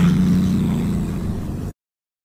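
A domestic cat growls with its lip curled and mouth slightly open, a low, steady rumbling growl that holds for under two seconds on its own before cutting off abruptly.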